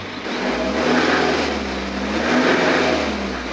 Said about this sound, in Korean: 제가 듣기에는 타이밍 체인 소리로 느껴지고요.